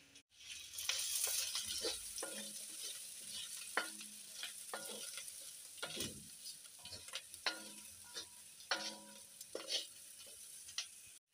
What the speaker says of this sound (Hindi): इन सबको अच्छे से मिक्स कर लेंगे